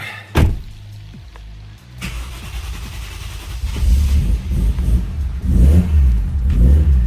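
A car fitted with a Link ECU cranks and fires after a flat battery was recharged, then revs in repeated low, rumbling surges that grow louder toward the end, with a door-like thump near the start.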